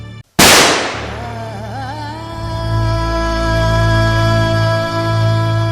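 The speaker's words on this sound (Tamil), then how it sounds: "குண்டு சப்தம் அறையில் எதிரொலித்தது" A handgun fired indoors as a sound effect: after a brief moment of silence, one sharp, very loud shot rings out, followed by a long metallic ringing echo that fills the room for several seconds.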